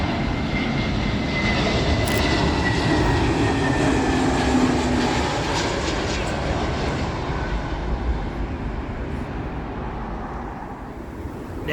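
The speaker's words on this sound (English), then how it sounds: "China Eastern will beat the runway switch. This is their A330 service from Shanghai" China Eastern Airbus A330 arriving at Heathrow on its service from Shanghai, a steady broadband jet roar from the landing airliner that holds loud and constant throughout, with no voices.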